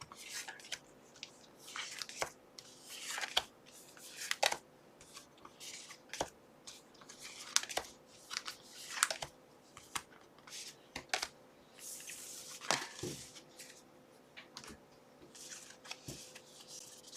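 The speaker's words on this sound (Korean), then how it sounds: "한번 카드 뽑아보도록 하겠습니다" Tarot cards are shuffled and drawn at close range, giving a run of soft, irregular riffling bursts and crisp card snaps spread over the stretch, fairly quiet, with no speech.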